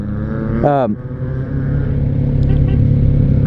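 A Kawasaki Z900RS motorcycle engine drones steadily and close up, with a brief rising rev partway through, then keeps running at an even pitch.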